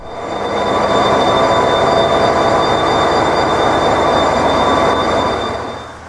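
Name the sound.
steam train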